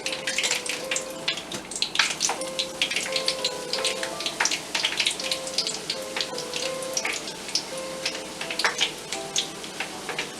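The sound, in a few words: bhatura frying in oil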